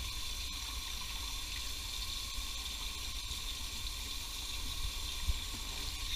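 Scalding hot water runs over metal tongs used for cleaning catfish, a faint, steady hiss of flowing water with a few small knocks and no speech.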